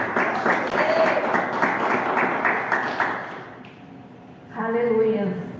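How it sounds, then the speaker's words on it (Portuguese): Applause from a church congregation praising Jesus, a dense run of clapping for about three seconds that fades, then a voice speaks loudly over the tail. "E mais palmas para Jesus, igreja."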